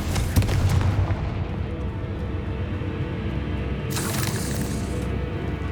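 Confringo explosion spell in Hogwarts Legacy, a loud close boom at the start followed by a rumbling, crackling decay and a second hissing burst a few seconds later, no talk.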